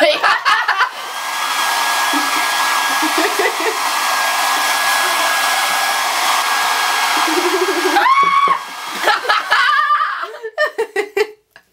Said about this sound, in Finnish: me haettiin mun äidin kaapista fööni ja sen avulla me saatiin toi kuivumaan huomattavasti nopeammin